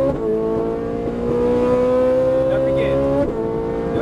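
A Ferrari 458 Italia V8 engine revving hard under throttle on a Las Vegas race track, heard from inside the cockpit as a loud rising wail climbing steadily in pitch before a brief gear-change dip, with no talk over it.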